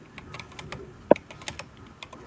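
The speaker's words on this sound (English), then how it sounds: "And I'm just typing." Someone types on a computer keyboard, giving irregular, close key clicks with one sharper, louder clack in the middle.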